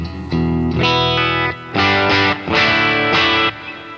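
Clean electric guitar chords ring out through a Tone X amp modeler set to a '65 Deluxe Reverb clean setting, strummed in several sustained bursts with short gaps between them, bright and full.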